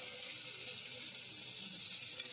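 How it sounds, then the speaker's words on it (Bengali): Spices with red chilli powder stirred in a sizzling pan, a soft, steady hiss of frying oil throughout, fairly quiet and close, with no talk. "ভালো করে নেড়ে দেব।"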